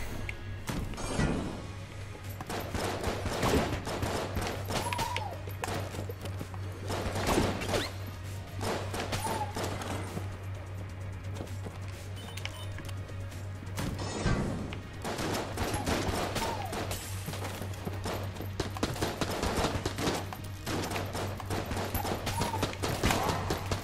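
Rapid gunfire and impact bursts from the top-down roguelike shooter game Enter The Gungeon, a dense continuous barrage of shots with crashes and thuds over a steady low game tone.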